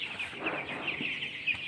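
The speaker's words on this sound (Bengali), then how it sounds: "কয়েকটা ব্রয়লার মুরগি রাখছি, 10-15টা মতো আছে" A small flock of ten to fifteen broiler chickens clucks and chirps steadily over a constant background hiss, close by with no talking.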